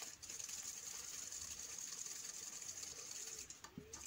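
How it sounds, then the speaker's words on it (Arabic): An electric whisk beats butter, eggs and sugar in a bowl, giving a steady, continuous high whirring hum throughout, fairly quiet, with a small clink near the end. "خلط بالفوي"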